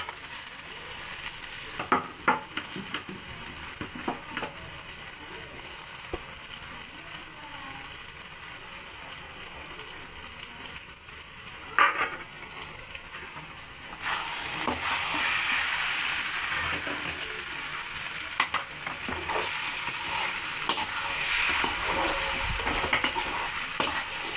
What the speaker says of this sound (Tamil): இப்போ நம்ம ரெடி பண்ணி வச்சுருக்க சொரவை இதில் போட்டுடல அப்படியே கலரி விட்டுக்கலாம்